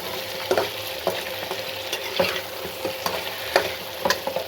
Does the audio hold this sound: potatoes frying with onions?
yes